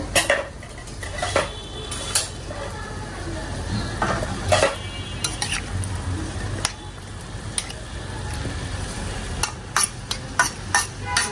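A spatula scrapes and clatters against a pan while cauliflower and greens sizzle steadily underneath, with occasional sharp metallic knocks and a few words spoken.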